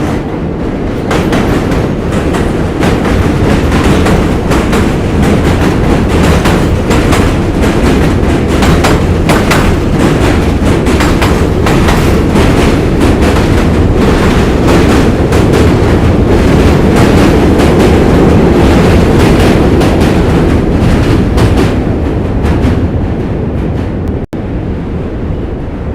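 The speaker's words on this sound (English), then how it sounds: "I can't mute the subway noise as it passes by." A New York City subway train passes by, a loud, sustained roar and rattle of wheels on rails with rhythmic clatter, very close and filling everything until it fades near the end.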